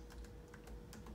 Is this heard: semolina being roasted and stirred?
no